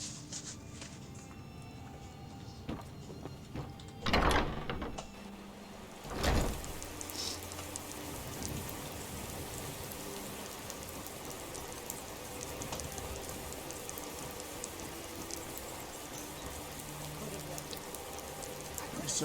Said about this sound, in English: It's sprinkling, raining a little bit.